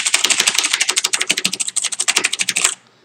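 Rapid, steady typing on a Razer BlackWidow mechanical keyboard, loud and close, with crisp clicky keystrokes in a fast continuous run that stops abruptly near the end.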